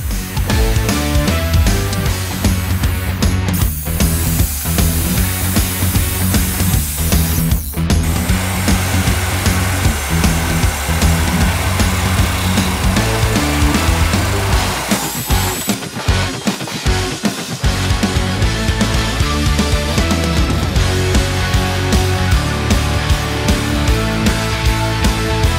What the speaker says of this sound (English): Cutting through metal with an angle grinder is quite a satisfying experience